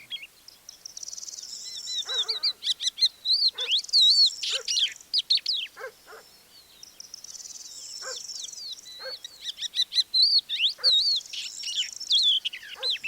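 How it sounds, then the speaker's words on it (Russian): A skylark pours out a continuous, warbling high-pitched song on the Manych steppe in April while a dog barks repeatedly in the distance, faint sharp yaps. "Пока жаворонок распевался, меня заметила собака и, как могла, поучаствовала в общем концерте."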